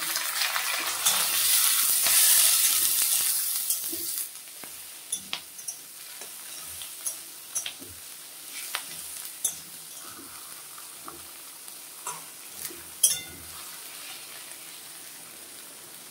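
Fish fat spitting and sizzling in a hot pan, a loud close crackle for the first few seconds that settles into a quieter steady fry with scattered pops and light clinks.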